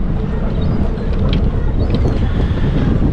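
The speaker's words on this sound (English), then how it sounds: "the wind down here is freezing" Cold wind blowing across the Norfolk Broads, a continuous loud rushing buffet on the microphone with low rumble and faint water or boat noise beneath, no talking.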